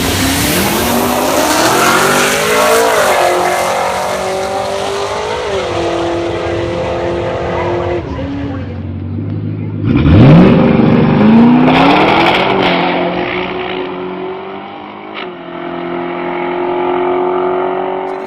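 A Ford Coyote V8 with an On3 Performance twin turbo kit revs hard on a trailer, not fully warmed up, a loud close engine roar rising and falling through several sharp blips with turbo whistle and no talk.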